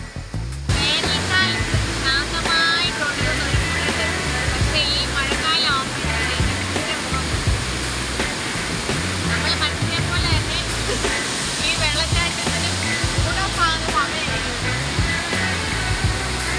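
Aruvikuzhy Waterfalls in Kottayam, Kerala, in the monsoon season roars in a constant, heavy rush throughout, with a voice talking over the thundering water.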